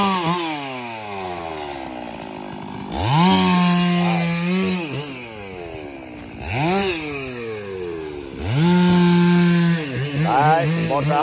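Chainsaw cutting through trees and grass in a cleared rubber plantation, its engine revving in several rising and falling surges, loud and close, with a person talking intermittently nearby.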